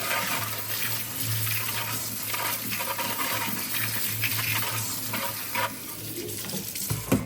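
Beads are rinsed off under a running kitchen tap, the water hissing steadily while small hard pieces clink and rattle together, close up and without voices.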